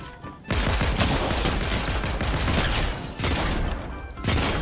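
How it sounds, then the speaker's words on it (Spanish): Shotgun blasts and dense gunfire in Fortnite, a loud continuous barrage with heavy punchy bursts throughout, including a sharp swell near the start and more impacts toward the end. "tengo que rematar con la escopeta"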